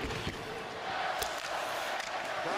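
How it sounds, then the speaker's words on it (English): A hockey arena crowd at Game 4 of the Stanley Cup Finals roars steadily after a second Florida Panthers goal, a dense, loud wall of cheering with a sharp burst near the middle. "Crowd has come alive following the second Florida Panthers goal."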